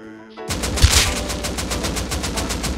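A rapid burst of automatic gunfire in the survival game Rust, a dense string of evenly spaced sharp shots that rings on for nearly two and a half seconds after a brief quiet start.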